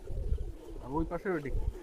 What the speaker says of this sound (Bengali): এখানে দুইটা ফিমেল কবুতর আছে